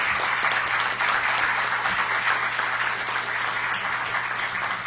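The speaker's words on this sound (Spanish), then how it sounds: "brindémosle un fuerte aplauso a Mario Serino Madrigal" An audience at a book presentation gives sustained, fairly loud applause, an even rush of many clapping hands with a faint low hum beneath.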